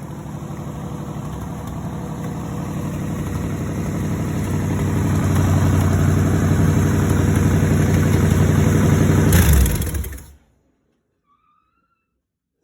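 The race-built 1984 Pontiac Grand Prix engine runs loud and close with a rough, steady rumble that swells slightly, then cuts off abruptly, leaving near silence for the last couple of seconds.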